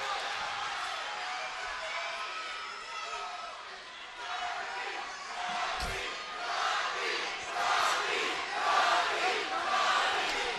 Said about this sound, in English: Crowd trying to will Juarez, chanting his name.